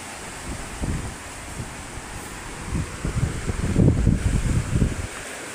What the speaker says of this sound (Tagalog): Talagang malakas pa rin ang pagaspas ng hangin.